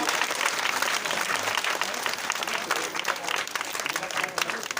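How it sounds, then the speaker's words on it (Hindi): Loud, sustained applause from an audience at a village function in India, a continuous dense roar of many hands clapping with crowd noise mixed in throughout. "तालियों की गड़गड़ाहट रुकनी नहीं चाहिए।"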